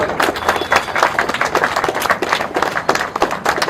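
An audience at a village honour ceremony clapping in a medal presentation, brisk uneven claps from a modest crowd, close and fairly loud throughout.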